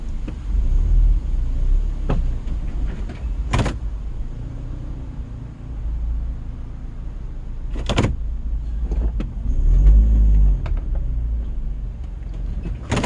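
A car drives along a road in New Zealand, giving a steady low engine and tyre rumble throughout, with a few brief knocks and clicks rising above it and no talking.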